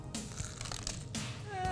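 A bite into a crunchy air-fryer onion ring, cooked with just a little cooking spray, gives a couple of close crackly crunches with some faint background noise.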